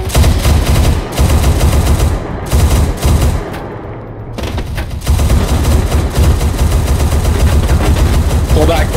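Heavy machine gun fire from a vehicle-mounted gun in the ARMA 3 video game, loud sustained bursts over a rumbling engine, with a brief pause midway and occasional radio voices.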